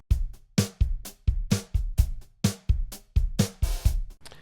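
A drum plugin's studio drum kit plays a steady groove, kick and snare hits alternating with crisp cymbals, punchy and close, with no voices.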